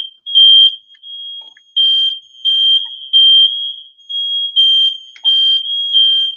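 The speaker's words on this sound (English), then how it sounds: "My husband got the alarm going off." A household smoke alarm shrieking in a close, loud run of repeated high-pitched beeps, mostly long bursts with short gaps, alone with no voices.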